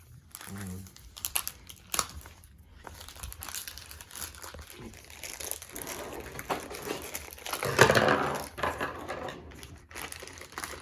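A paper gasket for a 2004 Yamaha YFZ450 quad is handled and crumpled, crinkly with intermittent rustles and one louder crunch, amid background noise.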